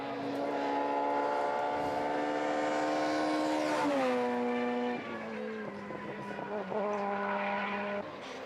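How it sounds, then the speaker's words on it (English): A rally car in a 2012 European Rally Championship round slides on the handbrake through mountain hairpin bends, its engine revving loud and steady before dropping and climbing again through gear changes, close and alone. "And Laurent Riche using the handbrake to slide the car around the hairpin bends"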